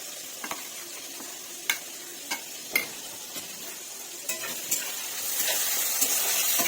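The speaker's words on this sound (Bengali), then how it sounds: "আমি এইটা দিয়েই মাখাচ্ছি পটলটা চামচ দিয়ে" Hot cooked pointed gourd (potol) is mixed in a bowl with a spoon, giving sharp intermittent clinks and scrapes over a soft sizzling, sticky background; close and fairly loud, with no talking.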